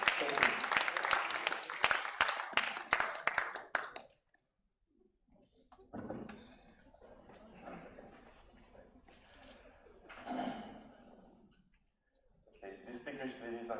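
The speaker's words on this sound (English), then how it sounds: "Please, let's give him a round of applause." Audience applause at a university market research lecture at UNILAG fills the hall as a dense burst of clapping for about four seconds, then stops abruptly before a speaker begins addressing the room.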